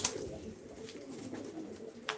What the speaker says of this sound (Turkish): Akşam tezgahımızı şenlendirecek kuşlar.